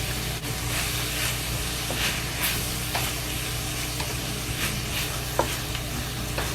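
Kale and ground beef stir-fry in a hot pan with soy sauce, giving a loud, steady sizzle with scraping stirs and small crackles throughout, close up and without talk.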